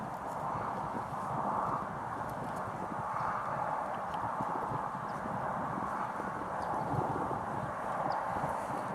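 A horse moves about after a treatment, its hooves clip-clopping in a steady, fairly even rhythm at moderate distance over a soft background hum, with no talking.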